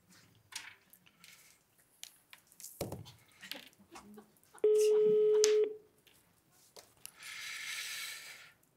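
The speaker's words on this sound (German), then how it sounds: "Du musst mich aber bitte schön anrufen, ja, weil sonst müsste ich den Kurz wählen" A telephone call tone sounds in the middle, a steady held beep lasting about a second, amid sparse speech and room noise, followed by a burst of hiss, set in an Austrian comedy sketch about a phone call.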